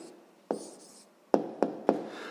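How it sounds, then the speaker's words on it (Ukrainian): A pen writes out the answer to a sixth-grade maths equation: a quiet, close scratch followed by four sharp taps, three of them in quick succession near the end. "А зараз записуємо тоді відповідь."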